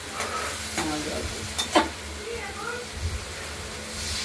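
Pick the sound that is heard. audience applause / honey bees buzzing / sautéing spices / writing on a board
sautéing spices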